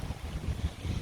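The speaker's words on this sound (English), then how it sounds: "It's windy." Gusty outdoor wind buffets the microphone in a low, uneven rumble that swells and dips through a very short, fairly quiet moment, with no voices.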